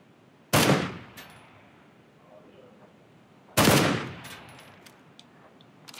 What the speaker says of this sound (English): Was that you I'm shooting at?